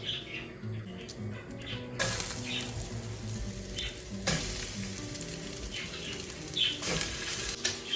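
A pork cutlet fries in avocado oil in a pan, sizzling continuously up close with sharp bursts of spattering and occasional scrapes of spatula tongs moving it around.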